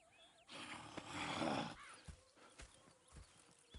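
A horse in the video game Red Dead Redemption 2 snorts and whinnies loudly, followed by hooves clopping in a steady rhythm, nearby with some background noise.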